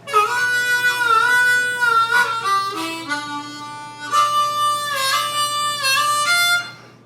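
Yodel part of a country song played on a regular diatonic harmonica, a sustained, wavering reedy melody with bends and leaps, played alone and fairly loud with no talking.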